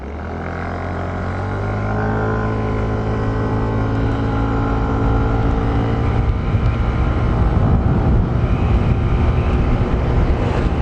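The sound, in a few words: Yamaha Mio Gravis scooter engine accelerating at full throttle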